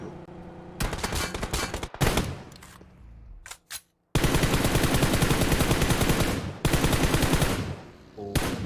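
Bursts of rapid automatic gunfire in a video game rattle loudly, broken by short pauses and a few single shots, with sustained volleys dominating.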